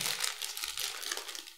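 Close, crisp crinkling of plastic wrap on an ADATA SE770G SSD box, a continuous rustling crackle handled by hand with no talking over it.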